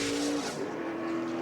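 NASCAR stock cars racing at Texas in 2007 roar past with a steady, high engine whine and a slight pitch shift as they go by, loud and close.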